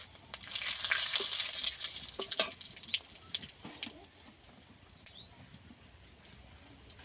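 A five-spice tempering with bay leaf crackles sharply in hot oil, loud and bright at first, then settles into a softer, thinning sizzle broken by scattered pops and light clicks.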